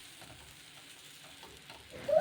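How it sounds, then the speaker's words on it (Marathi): Jowar (sorghum flour) dhirde batter sizzles on a hot griddle, a soft crackling hiss that stays low and steady before swelling louder near the end, with no talking. "तवा गरम असताना हे बॅटर यावरती छान पसरवून घ्यायचं आहे."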